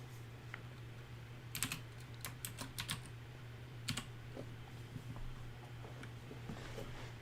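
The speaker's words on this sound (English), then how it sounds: "Typing out my special thanks here." Keys tap on a computer keyboard in short bursts of clicks separated by pauses, close but faint over a low electrical hum.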